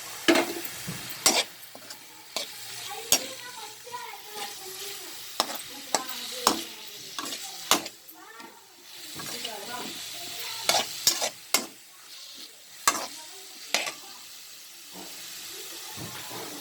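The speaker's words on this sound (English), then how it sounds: "We'll stir fry it for a minute." Fried baby corn stir-fried in a pan with soy sauce, a steady sizzle and hiss broken by repeated sharp scrapes and clanks of the spatula against the pan, close and alone.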